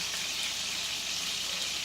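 Lamb chops frying in plenty of oil in a preheated skillet give a steady, loud, close sizzle that holds unbroken throughout, with no voices.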